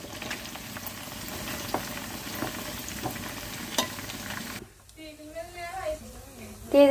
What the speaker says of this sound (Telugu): ఇంకా డైరెక్ట్ నూనెలో వేపేసి పెట్టేస్తున్నాను నేను